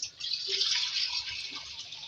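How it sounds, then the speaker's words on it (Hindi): Water is poured from a glass into a pot of browned potato curry, a steady hissing splash lasting about two seconds before it tapers off. "और इसमें पानी डालेंगे इसके अंदर।"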